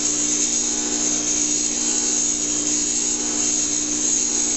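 A grinder stone spins in a loud, steady, continuous whine while a blade is held against it for sharpening in a workshop, with no talking.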